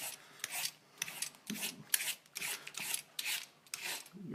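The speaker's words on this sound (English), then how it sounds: "this is your straight up English cucumber. I'm going to take off some of the peel." Rhythmic rasping strokes of a peeler stripping the skin off an English cucumber, about nine quick scrapes in a row, close and clear with no talking.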